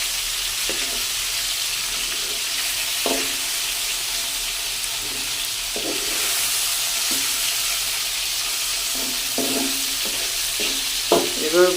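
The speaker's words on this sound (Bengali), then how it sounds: "এভাবে ভাজা হতে থাকবে কিছুক্ষণ পরে" Fish frying in a pan gives a steady, close hiss of hot oil, with scattered soft clicks and scrapes as the pieces are turned.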